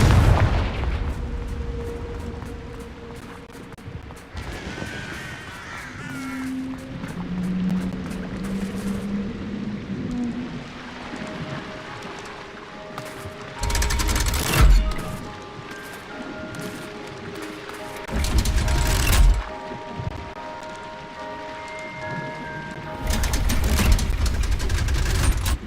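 Confringo fire spell explosions in Hogwarts Legacy, several loud booming blasts spread across the clip between quieter stretches of game ambience and musical tones.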